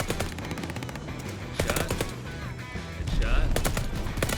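A light machine gun in a video game fires in rapid bursts, its sharp cracks loud and close, with a heavier stretch of fire near the end.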